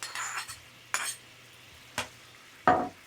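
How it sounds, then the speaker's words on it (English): Butter being stirred into a piccata sauce in a pan: four short, soft scraping strokes of a utensil, each separated by quiet, with a faint low hum underneath. "You just want to stir that in and melt it in."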